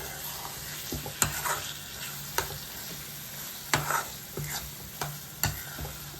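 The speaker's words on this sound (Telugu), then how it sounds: "కారం వేసుకొని ఒకసారి బాగా కలుపుకున్నాం కారం అంతా మునక్కాయలకి అంతా బాగా పట్టేలాగా" Drumstick pieces being stirred with chili powder in a pan for milk-based drumstick curry, with scattered spoon scrapes and clacks over a light sizzle, close and fairly quiet.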